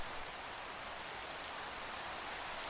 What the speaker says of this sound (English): Stop this rain!